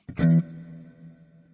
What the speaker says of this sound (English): in the middle, which is a Hall reverb